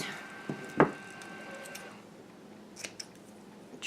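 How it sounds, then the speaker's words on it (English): A single crisp snip of scissors trimming a printed label close by, preceded by a softer click, then quiet handling noises. "Get a pair of scissors."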